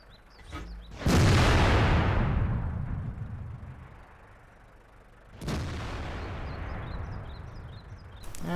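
Tank cannon fire in the World of Tanks clan war battle on Murovanka: a loud, heavy boom with a long rumbling tail, then a second blast later, with faint bird chirps between.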